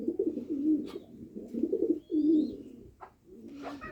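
Soft, repeated low cooing of pigeons nearby, several throaty calls in a loose rhythm with a few faint chirps in between.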